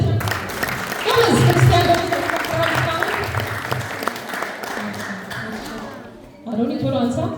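An audience at a church's annual children's quiz competition claps in a sustained burst of dense applause, which fades before a voice speaks.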